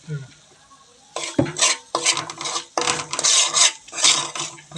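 Cucumber pickle is mixed with a spoon, several wet, rasping stirring strokes and scrapes against a dish in quick bursts, close and fairly loud after a quiet start.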